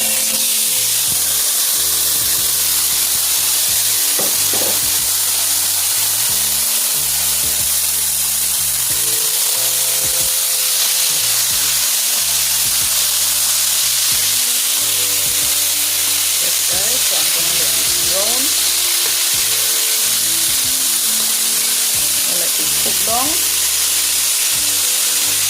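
Seasoned food with scallion, garlic powder, sweet pepper, onion and thyme sizzling in a pot, a steady loud frying hiss with occasional stirring scrapes and a faint voice in the background.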